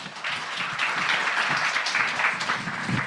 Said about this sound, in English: yes, applause is appropriate